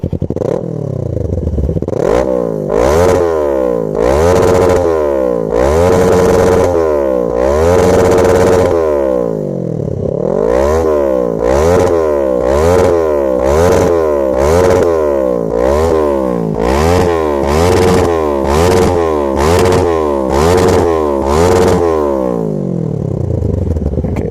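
Kawasaki Ninja 650 (ER-6f) fitted with a Scorpion exhaust, warmed up and revved hard over and over, loud and close, each blip rising and falling in a steady rhythm with mechanical clatter between revs, no talking.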